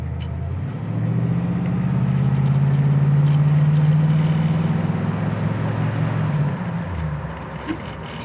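A 1967 Pontiac Firebird convertible engine idling, a loud, steady low rumble that swells slightly after the first second, holds smoothly, then eases down near the end, with no talking over it.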